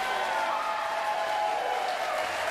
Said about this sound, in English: I like the clapping.